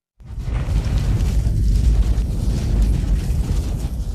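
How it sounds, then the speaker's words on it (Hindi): A grenade blast in a film erupts suddenly after a moment of silence and becomes a loud, close, sustained deep roar with heavy low rumble that keeps going without fading for several seconds. "वेस उसे पकड़ लेता है और विस्फोट में खुद को बलिदान कर देता है।"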